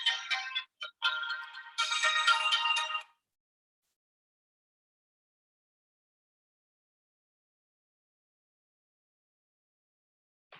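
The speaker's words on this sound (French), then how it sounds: "j'ai oublié d'éteindre mon téléphone" A mobile phone rings with a bright electronic ringtone in several short bursts over about three seconds, then stops. Near silence follows for the rest of the clip.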